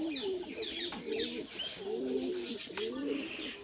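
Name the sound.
pigeons cooing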